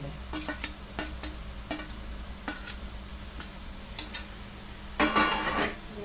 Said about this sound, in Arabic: نشوح بقى فيها شويه كده على قد ما نقدر عشان نحس ان الكبده خدت لون